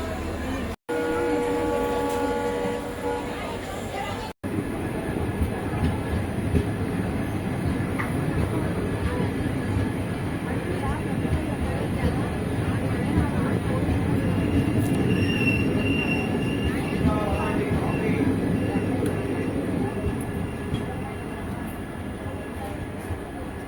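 The Rameswaram Intercity Express passenger train between Thiruvarur and Trichy rumbles steadily on the rails with a constant low roar of wheels and carriages, some faint squealing and background voices throughout.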